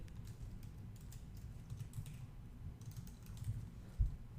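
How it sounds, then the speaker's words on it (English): Typing on a computer keyboard during a coding lecture, a quiet steady patter of soft key clicks over low background hum, with one slightly louder tap near the end. "So you can type that here yourself"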